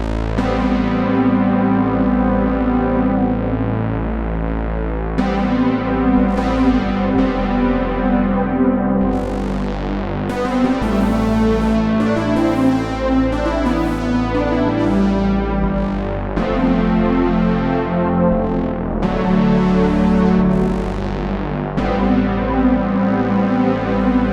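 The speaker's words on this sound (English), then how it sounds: "Something like a Dimension chorus can really just take a sound like this to the next level" A sustained synthesizer through an Axe-Fx Dimension chorus effect plays shifting chords with a wide, shimmering chorused texture, loud and continuous throughout with no voices.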